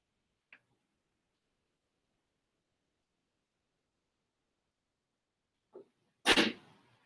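A single sharp sneeze bursts out near the end after a long quiet stretch, preceded by a couple of faint brief clicks or sniffs.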